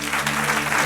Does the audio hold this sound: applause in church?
yes